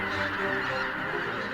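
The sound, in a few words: flocks of geese honking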